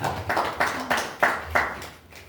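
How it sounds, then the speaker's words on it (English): Audience clapping for a speaker at a policy event, a modest, fairly faint round of applause with distinct uneven claps that taper off after about two seconds. "Let's have a round of applause for Dr. Milton."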